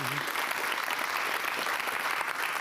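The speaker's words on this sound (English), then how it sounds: "Let's give a great applause." An audience at a talk on artistic creativity in business breaks into dense, sustained applause, a continuous wash of many hands clapping at even loudness with a voice briefly audible at the start.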